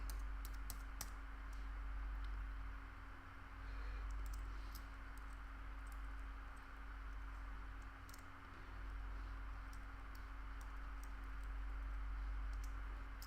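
Steady typing on a computer keyboard while entering Swift code in Xcode, with quick irregular key clicks running throughout over a low constant hum, fairly close and moderately quiet.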